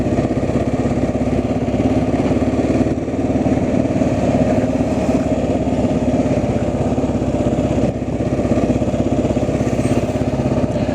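An engine-driven pump runs steadily nearby, pumping out flood water during Missouri River flooding in a Council Bluffs, Iowa neighborhood, giving a loud continuous mechanical drone with rattling texture and no pauses.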